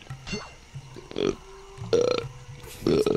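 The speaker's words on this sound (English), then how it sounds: "Are you burping?" Several loud, close burps come in separate bursts, each a rough, croaky eructation, with short gaps and some low grunting sounds between them.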